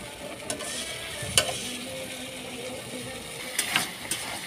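Spices sautéing slowly in a pan for a pistachio mutton kosha, with a soft continuous sizzle and a few scraping stirs of a spoon against the pan, heard up close and with no talking.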